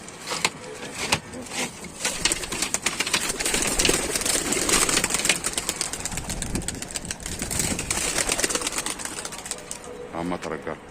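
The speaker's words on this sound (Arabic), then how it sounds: "الحمام كله طلع اهو" A flock of pigeons in Tanta takes off and flutters overhead, with busy wing flapping and soft cooing mixed with a voice talking nearby and a low engine rumble beneath.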